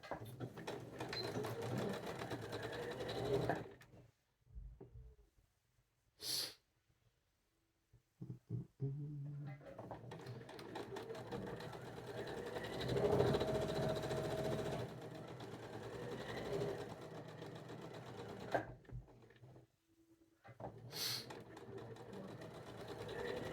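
A domestic sewing machine stitching the first two rows of a quilt together, with runs of fast mechanical whirring broken by several pauses and short starts, close and fairly quiet.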